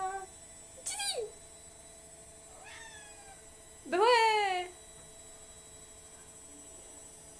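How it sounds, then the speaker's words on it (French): An elderly cat meows indoors three times: a short cry, a fainter one, then a longer, louder drawn-out meow, with a person briefly speaking at the start. "Regardez, il y a le papy chat."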